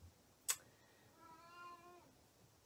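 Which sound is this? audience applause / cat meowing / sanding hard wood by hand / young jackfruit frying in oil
cat meowing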